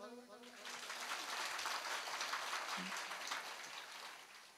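An audience breaks into sustained clapping that swells quickly and holds steady, many hands at moderate distance, over a faint low hum.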